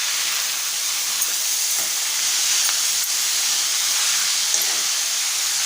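Fenugreek leaves sauté in a pan for Malvani-style methi bhaji, giving a loud, steady hiss and sizzle with faint occasional stirring, no voices.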